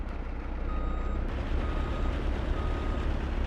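Dump truck reversing in Farming Simulator 19, a steady repeating backup beep over a low diesel engine rumble, continuous and fairly close.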